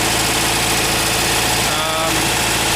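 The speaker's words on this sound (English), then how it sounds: "this engine works just beautifully" Rear engine of a 1974 Volkswagen Westfalia camper with automatic transaxle idles up close, a loud, steady, rhythmic air-cooled chug with no talk.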